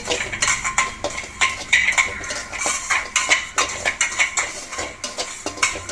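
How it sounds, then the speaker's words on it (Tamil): Semolina is stirred and roasted in a metal pan, with quick repeated scraping and clinking of a spoon against the pan in an uneven, busy rhythm, close and fairly loud. "போட்டு நல்லா கிளறி விடுங்க. கொஞ்சம் நல்லா வாசம் வர்ற அளவுக்கு நல்லா வறுத்துடுங்க."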